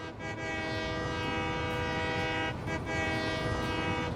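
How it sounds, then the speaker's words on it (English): A train whistle in the video game Satisfactory sounds in a long sustained harmonic blast, briefly dipping before continuing, loud over the rumble of the moving train, with no speech. "I hear the whistle."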